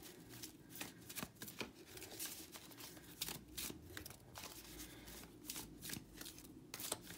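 Tarot cards are shuffled by hand in rapid, crisp riffling bursts, close and continuous but quietly recorded, with no talking.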